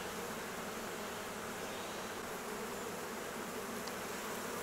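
Honeybees crowd the hive frames as a swarm is moved from a trap into a hive, a dense, steady close-up buzzing that fills the whole stretch without any talk.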